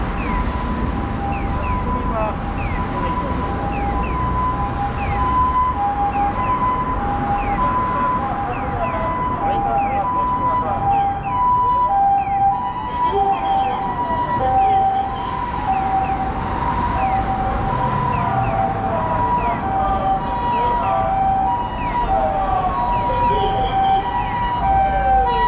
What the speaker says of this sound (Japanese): 救急車来ました。